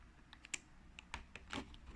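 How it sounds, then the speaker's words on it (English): Quick sharp clicks and short scraping strokes as a box cutter slices through the tape of a factory-sealed Hot Wheels container set box, close and fairly quiet, with uneven gaps between cuts. "I'm gonna take out the trusty box cutter and just cut right through here"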